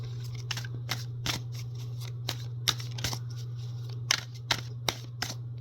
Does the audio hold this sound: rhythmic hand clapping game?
no